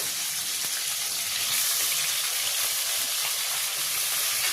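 Two large tomatoes frying in hot oil in a kadai for Bengali dal tadka, a continuous loud hiss and sizzle that holds steady throughout, with no voice over it.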